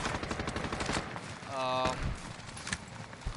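Gunfire in a shooter video game: rapid bursts of shots crackle throughout, loud and close, while players talk over the shooting.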